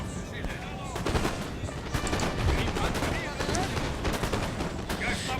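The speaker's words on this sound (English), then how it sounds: "They got Fusilier and they have artillery fire coming into there." Dense musket volleys and artillery fire from a Napoleonic battle in Napoleon: Total War, with crackling shots rattling continuously and loudly throughout.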